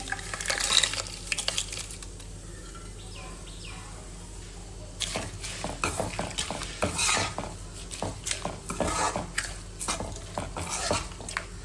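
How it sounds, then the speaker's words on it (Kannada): A spoon stirs tempering into tamarind gojju for temple-style Melukote puliyogare, with soft scraping and clinking strokes against the pot, quiet at first and then more frequent, over a faint low background hum. "ಇಲ್ಲಿ ಮಾಡ್ಕೊಂಡಿರೋ ಒಗ್ಗರಣೆ ಮತ್ತು ಗೊಜ್ಜಿಗೆ ಮಿಕ್ಸ್ ಮಾಡ್ಕೊಳ್ತೀನಿ"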